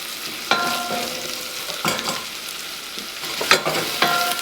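Vegetables for a restaurant-style creamy tomato soup sautéing in a hot pan, a steady sizzle broken by several louder bursts of stirring and scraping, close and alone with no voices.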